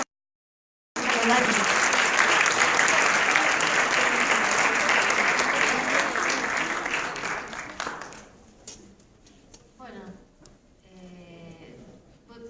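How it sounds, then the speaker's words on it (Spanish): Sustained applause from a bookstore audience at a book presentation, loud and dense for about seven seconds, then thinning into scattered claps and a few voices as it fades. "les pido un aplauso"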